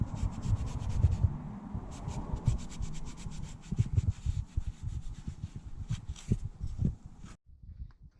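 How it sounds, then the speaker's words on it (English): Scotch-Brite pad and WD-40 scrub surface rust from a ZXR250 motorcycle wheel, a close, steady rasping rub in quick back-and-forth strokes that stops abruptly at the end. "I'm just using a bit of WD-40 and some of the Scotch-Brite just to get this surface rust off of here."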